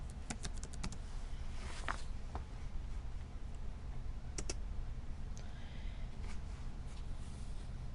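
On a quiet computer, a password is typed on a keyboard as a quick cluster of soft key clicks, then a few isolated taps and clicks against a low background hum.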